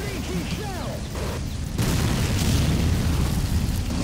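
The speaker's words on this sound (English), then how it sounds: "This is some intense tank combat." Tank combat explosions in the Men of War game: a dense, continuous barrage of booms and bursts that grows louder after the first couple of seconds, with whistling tones early on and a person's voice mixed faintly under the din.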